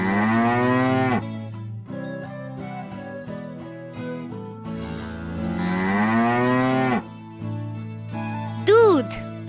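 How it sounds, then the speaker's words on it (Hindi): A cow lets out two long, drawn-out moos, loud and close, over a steady musical backing, followed by a brief rising squeak near the end. "गाय"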